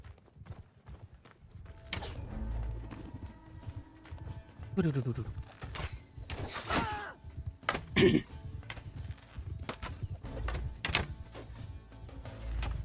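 Cavalry horses gallop across a battlefield in Mount & Blade II: Bannerlord, hooves clattering in uneven bursts that swell and fade as riders pass, mixed with combat thuds and someone talking over the action.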